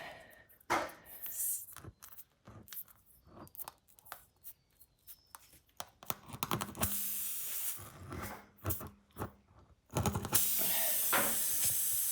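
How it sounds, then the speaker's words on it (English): Air hissing out of a punctured car tyre through an enlarged hole, heard as bursts of steady hiss between clicks and handling noises from the repair tool, ending in a louder continuous rush. "Hear the air flowing out through there a lot easier now."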